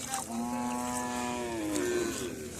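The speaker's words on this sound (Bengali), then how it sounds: "লাখ লাখ গরু রয়েছে" A single cow on farmland in the India–Bangladesh border area gives a long, drawn-out moo that rises slightly and holds, fairly close but at moderate volume over a quiet background.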